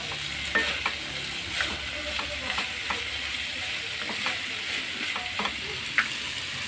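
Food frying in a pan is stirred and mixed, a steady sizzle under regular light scrapes and taps of the utensil, close and without talk.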